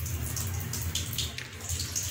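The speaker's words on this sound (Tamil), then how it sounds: "பச்சை மிளகாவையும் பூண்டையும் வாஷ் பண்ணி எடுத்துக்கோங்க." Garlic and green chilies rinsed in water in a home kitchen while making drumstick-leaf rice, giving a steady, close splashing and running-water wash with small drips throughout and no talking.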